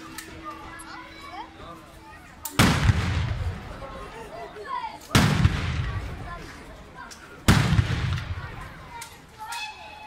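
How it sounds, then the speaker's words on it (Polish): Artillery fire at a battle reenactment: three loud booming blasts spaced a few seconds apart, each trailing off in a long rumble, with faint outdoor background between. "Tutaj się właśnie włączyła artyleria z innej strony frontu"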